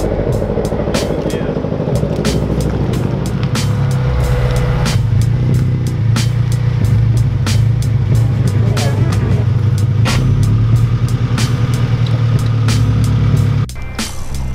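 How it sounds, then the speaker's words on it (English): A Honda Integra with a broken vacuum hose runs rough, its engine sputtering in a continuous low, uneven drone broken by sharp clicks and pops, with a brief dip near the end. "Courtney's Integra has a broken vacuum hose. So it's making the engine sputter a lot"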